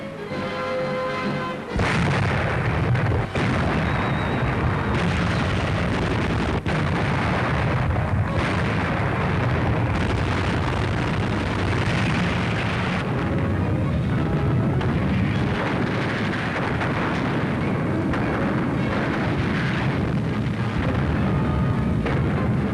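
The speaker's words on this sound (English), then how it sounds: "watching the bombardment before the landings" A wartime naval bombardment and artillery barrage before the 1944 Leyte landings: loud, dense rolling booms and blasts merge into a continuous roar, with sharper cracks standing out throughout.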